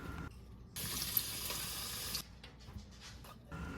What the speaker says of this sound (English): I'm making sure to thoroughly rinse and dry my turkey before seasoning.